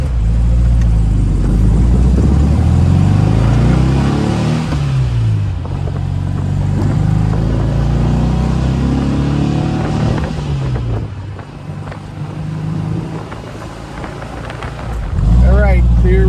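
A 1960 Porsche 356B Outlaw single-grille roadster drives along an open road, its engine a steady low rumble that shifts pitch as it accelerates, with wind buffeting the microphone throughout.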